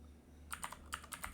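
Keys tapped on a computer keyboard, a short run of about eight quick, light clicks close by after a moment of quiet room tone.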